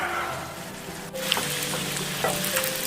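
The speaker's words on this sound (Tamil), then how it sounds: "இது ரொம்ப ப்ரௌன் கலரில் வரைக்கும் ஃப்ரை ஆக தேவையில்ல." Bread pieces fry in a pan for bread halwa, giving a steady, soft crackling sizzle that runs throughout with a few light clinks and stirs, close and moderately loud, with no talking.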